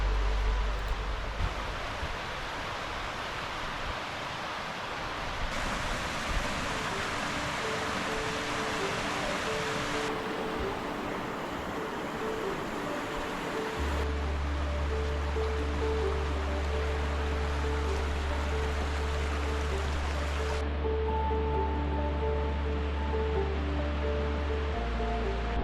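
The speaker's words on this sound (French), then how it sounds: "Il y a une belle cascade qui descend du Taillefer." A mountain waterfall tumbling down from Taillefer in the French Alps makes a steady, dense rushing roar, constant and fairly close, with no voices.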